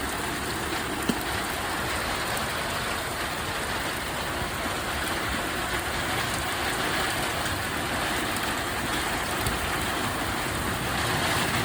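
Steady rain falls in Wonder Valley, California, a dense, even hiss of drops on the ground and surfaces that holds constant throughout, close and unbroken, with no voices.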